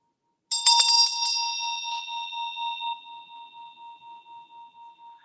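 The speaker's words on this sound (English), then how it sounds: "I ring this bell to honor those who have died." A bell is rung to honor the dead at a Full Moon Circle ceremony: a bright metallic strike with a few quick rattling hits, then a long, clear ringing tone that slowly fades with a gentle pulsing shimmer.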